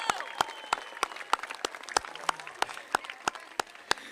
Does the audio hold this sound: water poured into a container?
no